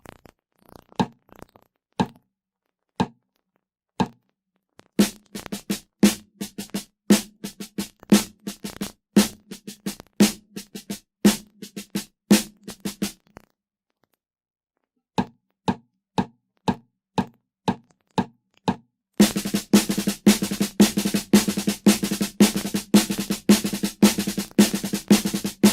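Snare drum played as a single drag tap rudiment opening with a tap: crisp, dry stick strokes in repeating groups of grace-note drags and taps, loud and close, with spaced patterns first and then denser, faster runs.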